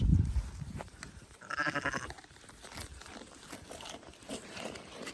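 A flock of sheep bleats on a farm in southeastern Estonia, a loud nearby cry midway followed by scattered fainter calls, with shuffling and rustling movement throughout and no speech.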